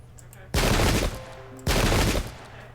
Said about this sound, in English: Turn around, open fire.